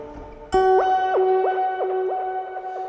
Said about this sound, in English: This one is called the Whammy. It just pushes the whole signal one octave higher.